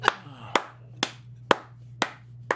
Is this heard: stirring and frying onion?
no